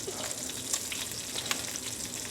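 Bone-in pork chops frying in butter in a pan, a steady close sizzle and crackle with a few brief sharper pops, no talking.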